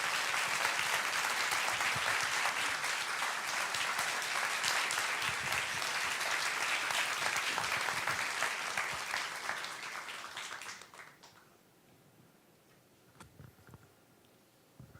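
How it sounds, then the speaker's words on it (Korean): An audience at a talk event with an author claps steadily for about ten seconds, dense even applause that then fades away, leaving near quiet with a few stray sounds. "큰 박수 부탁드리겠습니다"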